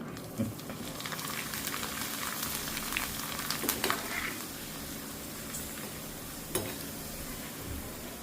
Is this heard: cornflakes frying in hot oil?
yes